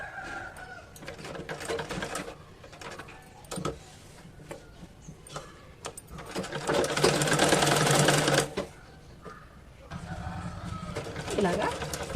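Sewing machine stitching baby palazzo pant fabric in loud bursts of a few seconds each, the longest near the end, with pauses between runs and a voice talking over the quieter parts.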